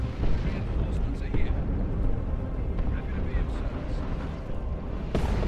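Explosion as a Space Marine Dreadnought is destroyed by cannon fire in the real-time strategy game Dawn of War 2, a dense rumbling blast bed lasting throughout with scattered bursts and a sharper pop near the end.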